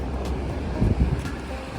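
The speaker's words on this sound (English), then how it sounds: "Have some waves, I'm not too deep in it." Ocean surf washes against a rocky shore below sea cliffs near Pismo Beach, a constant rumbling wash with a brief swell of water noise midway, mixed with wind buffeting the microphone.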